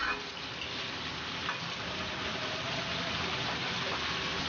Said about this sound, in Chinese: 把豆角投入锅中，中大火，把豆角先拉一点油。